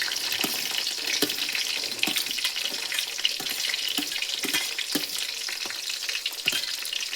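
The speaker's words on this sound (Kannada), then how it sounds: "ಹಾಗೆ ಈರುಳ್ಳಿನ ಹಾಕ್ತಿದ್ದೀನಿ." Sliced onions with curry leaves and green chilies frying in an oiled pan: a steady bright sizzle throughout, broken by regular soft scraping stirs, close and without voices.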